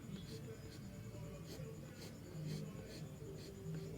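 Pencil sketching a freehand line on paper, with soft repeated scratchy strokes close by, steady and fairly quiet beneath a low background hum.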